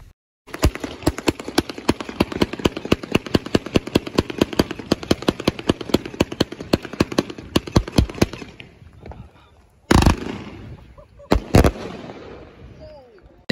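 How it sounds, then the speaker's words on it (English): A rapid volley of firework reports from the USA cake by Cutting Edge Fireworks, dozens of sharp evenly spaced bangs in a steady rhythm for about eight seconds, then a few louder isolated blasts and crackle as it finishes. "USA by Cutting Edge Fireworks."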